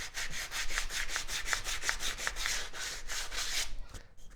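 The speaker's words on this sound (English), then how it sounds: "Sand it up, smooth it out." Continuous rhythmic sanding strokes on a wooden file handle, a steady back-and-forth scratch with faint clicks, stopping near the end.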